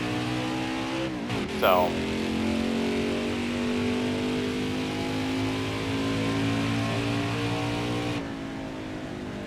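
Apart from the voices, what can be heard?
NASCAR truck engine racing in NASCAR Heat 5 video game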